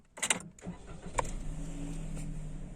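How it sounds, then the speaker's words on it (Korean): A few clicks at the push-button start, then a Suzuki Hustler kei car engine cranks briefly, catches, and settles into a low, steady idle nearby. "먼저 시동을 걸겠습니다"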